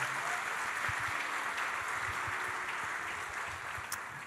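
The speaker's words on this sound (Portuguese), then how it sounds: "Uma salva de palmas aos nossos professores." Church congregation applauding its teachers, a steady wash of clapping heard at moderate distance, with a few low thumps and a brief sharp click near the end.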